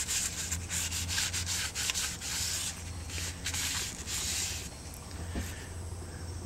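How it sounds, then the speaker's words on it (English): A cloth rubs True Oil finish onto sanded wood in quiet, repeated strokes, with a soft scrubbing texture close at hand. "This is true oil. Put it on there real lightly."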